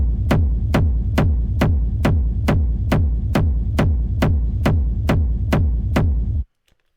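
A heavy layered techno kick drum with a clicky top kick and effects pounds in a steady, evenly spaced four-on-the-floor pulse, about fourteen loud booming hits before cutting off abruptly.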